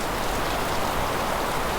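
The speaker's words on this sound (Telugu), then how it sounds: "ఇక్కడ ఫుల్గా వర్షం పడుతుంది." Heavy rain pouring down near a waterfall in Maharashtra, a dense, steady hiss of drops on surfaces, loud and continuous with no voices.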